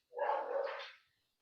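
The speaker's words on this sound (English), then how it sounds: "the dogs are gonna bark right now, but hopefully you can hear me." A single dog bark, fairly close and clear, rising sharply and fading within about a second, with no talking around it.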